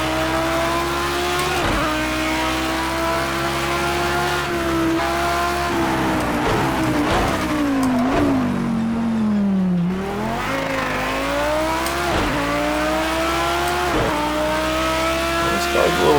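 A race car driven in the game Project CARS 2, its engine droning and rising and falling through gear changes while tires squeal through corners, loud and continuous with no talk.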